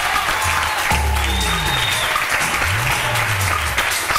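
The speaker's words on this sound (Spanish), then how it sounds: "Vamos, Raí, este aplauso para nuestro participante." A game show studio audience applauds steadily with dense clapping throughout, while low tonal sounds rise and fall underneath.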